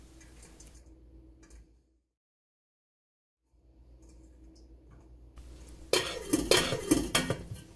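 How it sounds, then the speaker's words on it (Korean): A lid clatters onto a steamer pot holding bean sprouts, producing a burst of loud, rattling metallic clanks after quieter handling and a short silence, close by. "뚜껑 닫는 소리가 좀 요란하네요."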